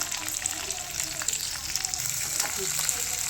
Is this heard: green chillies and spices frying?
yes